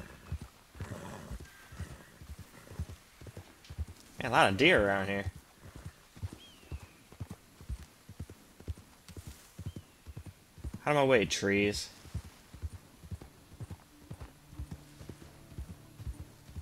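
Horse hooves clip-clop in a steady walking rhythm throughout the Red Dead Redemption 2 game, with two brief whinnies and someone talking over the hoofbeats.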